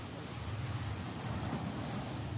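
Sea waves surge steadily against a clear-water shore in Hinunangan, a continuous low rumbling wash with wind noise running the whole time and no talk.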